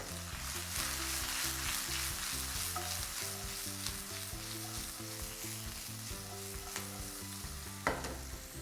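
Cumin, chopped onion and garlic sizzle steadily in olive oil in a pan over low heat, a continuous close crackle with faint stirring and no voices.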